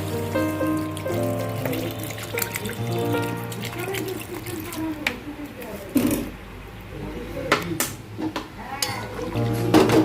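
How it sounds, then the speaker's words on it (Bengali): Water poured into a pan of fried fish and bottle gourd greens, with a running trickle and splashing over the hiss of cooking and some clatter, while a person talks throughout. "এবার আমি এর মধ্যে দিয়ে দেবো জল"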